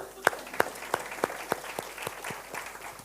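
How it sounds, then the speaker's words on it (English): An audience at a public lecture claps in a short round of applause, a handful of sharp separate claps at first that soften into a lighter, scattered patter. "Hey, Vuiswa, just clap hands for them."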